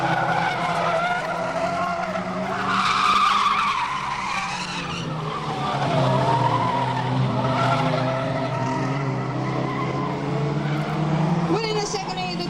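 Race cars roar and skid around a raceway circuit at a stock car meeting, with loud sustained engine drone and tire noise carrying across the whole stretch, a commentator's voice running over it.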